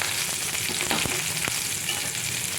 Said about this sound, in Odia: ଏକୁ ପକାଇଲା ପରେ ହାଲକା ଟିକେ ଏମିତି ଭାଜି ନେବେ।